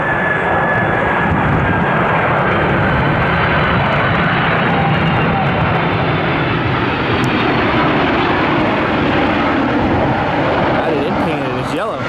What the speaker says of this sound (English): It's a former American Airlines 767-300, now operating, we believe, for DHL.